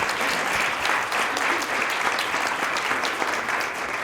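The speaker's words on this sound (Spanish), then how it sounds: "aplaudan" An audience breaks into steady, dense applause at an event, many hands clapping evenly and close for a few seconds without pause.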